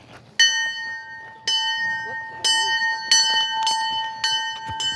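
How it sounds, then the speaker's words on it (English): Hand bell at a transportation museum rung by a visitor, six clear metallic strikes at irregular intervals, each ringing on with a long bright decay, close up with quiet background talk. "Now, there's this bell that you can ring."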